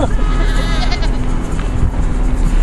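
Goats bleat close by on a farm, several rough calls overlapping above steady wind or background noise, with a voice faintly audible beneath.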